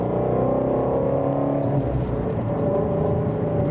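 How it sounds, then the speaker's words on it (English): A steady, low exhaust rumble from a Mustang sports car heard from inside while driving, continuous and moderately loud with no voices. "Even inside the car, you can still hear the rumble of that exhaust."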